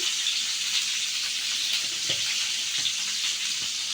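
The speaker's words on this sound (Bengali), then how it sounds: "রসুনের পর আমি সবগুলো উপকরণ ভালোভাবে ভেজে নেব" Garlic, green chillies and spices fry in hot oil in a pan for a rohu fish dish, a close, steady hiss and sizzle with a few faint clicks of stirring, and no voices.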